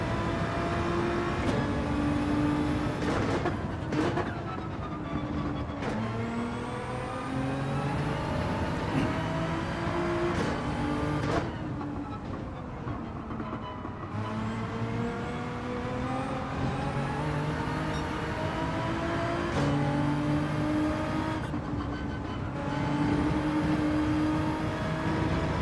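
Race car engine in Gran Turismo 7 during a manufacturer test session, sustained loud revving with rising and falling gear-change sweeps and brief drops between shifts, running alone without talk.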